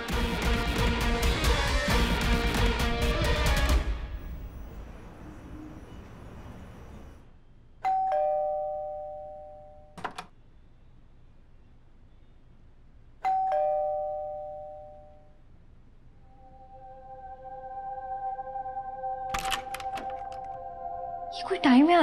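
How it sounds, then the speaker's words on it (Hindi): A doorbell rings several times in a home at night, with separate chime tones standing out clearly against a quiet background after some louder noise at the start. "तुम इतनी बार घंटी बजा रहे हो।"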